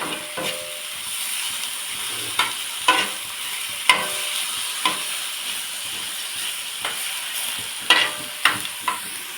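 Egg dosa ingredients sautéing in a pan, a steady close sizzle broken by sharp scraping stirs and spatula knocks at irregular intervals, with no talk.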